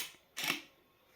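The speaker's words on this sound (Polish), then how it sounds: "musimy włączyć aparat" A digital camera is switched on, a single short mechanical click-whir, close but quiet, in an otherwise hushed room.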